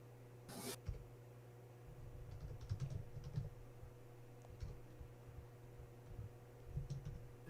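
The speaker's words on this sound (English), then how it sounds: "typing an essay" Steady typing on a computer keyboard, bursts of close, light key clicks over a constant low electrical hum, with no talk during the clip.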